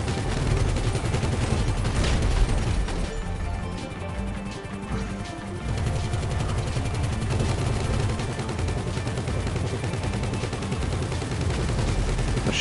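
Dense, sustained gunfire from a GTA Online heist, rapid bursts and overlapping shots running almost continuously at a steady loud level, with a brief dip in the middle.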